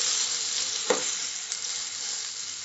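Recheado-masala mackerel frying in hot oil, a constant close sizzle with a brief sharp spatter and knock near the middle as the fish is handled, no talking.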